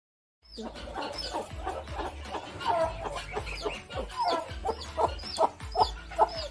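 A chicken clucks steadily in a rhythmic series, close by, getting a little louder toward the end, with some faint dog-like sounds mixed in.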